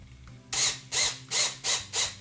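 Standoff barrels being screwed onto wall anchors for adjustable edge-grip mounts, five evenly spaced bursts of dry, ratcheting mechanical friction, close and fairly loud, with no talking.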